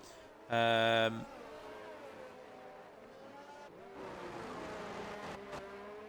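Race cars from an F1 video game whine past and roll into the pit lane, engines droning at a steady pitch with a louder surge near the end while a commentator talks over them.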